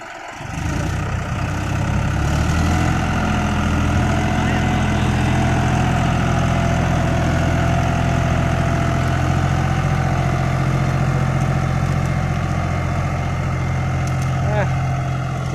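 A heavy John Deere 5040D 40-horsepower tractor engine rumbles loudly nearby, idling steadily with a low, throbbing drone that rises slightly at times.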